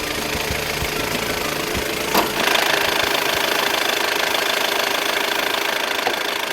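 A car engine with a failed, water-soaked alternator connection idles with a steady rough knocking rhythm, close up, its tone shifting slightly partway through.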